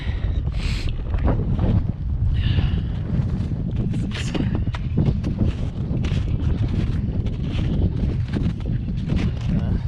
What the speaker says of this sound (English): It's significantly windier over here.